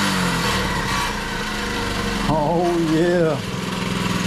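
A small pit bike engine runs at a steady idle, then revs up briefly with a rising and falling whine before settling, close by, with a short spoken remark over it.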